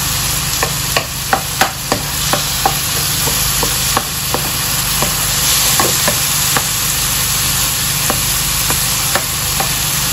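Tomato sizzling steadily in a hot pan while a spatula stirs it, giving a loud, constant frying hiss with regular scraping taps roughly every half second, and no voices.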